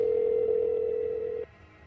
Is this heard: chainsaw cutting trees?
no